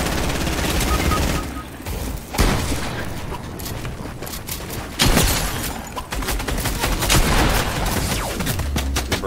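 Video game gunfire rattles through a dense, noisy battle mix, with sustained automatic bursts and a couple of heavier, sharp shot impacts standing out, loud and continuous throughout.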